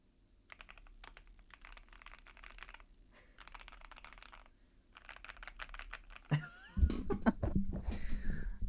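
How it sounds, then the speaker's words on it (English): Computer keyboard typing comes in quick, close clusters of light key clacks separated by short pauses, followed by a cough and rustling noises toward the end. "Already keyboard sounds."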